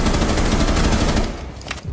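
Rapid automatic gunfire in the Rainbow Six Siege video game, a dense, loud burst of shots that stops abruptly partway through, followed by quieter scattered game sounds.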